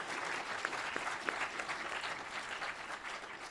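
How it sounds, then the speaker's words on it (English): An audience at a law school moot court competition final applauds for honorees Josh and Buckhalter, a steady, dense wash of clapping heard from a distance that holds evenly for several seconds. "Can we have a round of applause for Josh and Buckhalter?"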